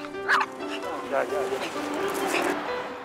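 An excited dog barks and yips repeatedly outdoors, several sharp barks with whimpering in between, while a person talks over it.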